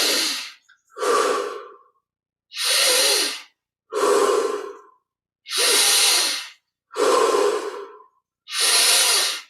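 Deep, slow breaths fill a guided meditation, seven long hissing inhales and exhales in a steady rhythm with silent pauses between, loud and close with no talking.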